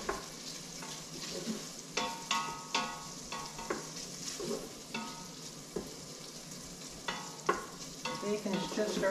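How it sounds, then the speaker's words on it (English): Bacon fries and sizzles in an Instant Pot, a steady close crackle broken by repeated sharp scraping stirs at irregular intervals, with no voices. "Bacon is just starting to crisp up now."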